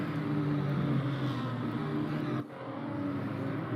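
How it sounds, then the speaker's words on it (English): Damaged BMW 235i race car in RaceRoom with its engine still running as it slides across the track after a heavy wall hit: a steady, loud droning engine note that dips briefly, then carries on. "He's trying to lip on, his engine's still on, but he's sliding across the track"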